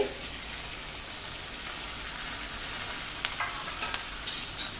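Cabbage, frozen peas and green chilli pieces being stirred in a pan, a steady soft sizzle with a few light scraping knocks of the spoon near the end, close and without talk.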